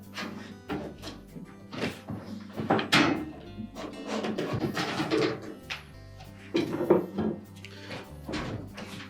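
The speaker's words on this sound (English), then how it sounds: "Knock out the old cup." An old bearing cup is knocked out of a Whirlpool washer tub during a suspension rod repair: a run of sharp, irregular metallic taps and thuds, close and fairly loud.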